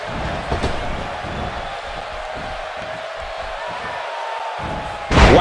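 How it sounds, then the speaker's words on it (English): A heavy body slam lands in a WWE 2K18 Hell in a Cell wrestling match, a sharp, loud thud near the end after steady arena crowd noise and commentary. "He just slammed him with ease."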